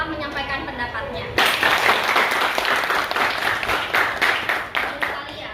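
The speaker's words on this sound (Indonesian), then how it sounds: "Silakan kasih aplaus untuk Rakel yang telah menyampaikan pendapatnya." Classroom applause rises abruptly for a student after she shares her opinion, a steady burst of many hands clapping that carries on to the end, with a teacher's voice heard before it starts.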